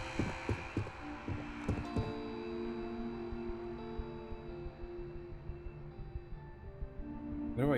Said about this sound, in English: Where do I hear a heartbeat?